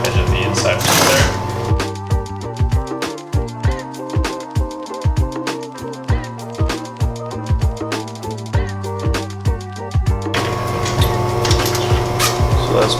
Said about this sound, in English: we're just going to quickly run a top stitching line just along the top of the mesh there